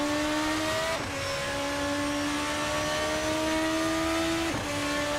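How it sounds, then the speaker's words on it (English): Formula RSS 2 open-wheel car in a racing sim, its high-revving V8 screaming loud and steady at high rpm, with brief dips at two gear shifts before climbing again. "love, love, love that V8 sound. I love a high-revving V8 engine."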